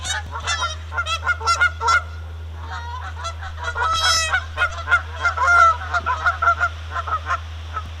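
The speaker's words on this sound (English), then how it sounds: "Noisy old geese." Geese on the bank beside a fishing match honk again and again in a noisy flock, loud nearby calls over a steady low hum.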